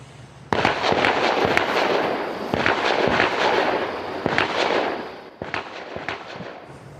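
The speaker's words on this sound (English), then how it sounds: "Law enforcement even deploying stun grenades." Stun grenades deployed by law enforcement during a tense overnight standoff, heard as a rapid series of loud, sharp bangs and pops echoing one after another over several seconds, with no talking.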